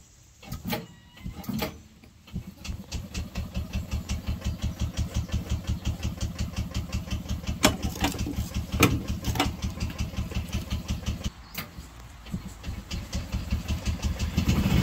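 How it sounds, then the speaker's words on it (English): An old tractor engine with a broken choke knob cranks in rhythmic pulses, sputters and catches, then runs with a steady chugging beat, fairly close and loud, with brief drops near the end. "Let's see if we can get the thing started though."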